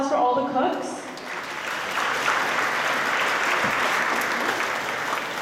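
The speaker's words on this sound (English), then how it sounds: "Let's give a round of applause for all the cooks." An audience at an ISKCON temple lecture in Toronto applauds steadily for several seconds after a brief moment of talk at the start.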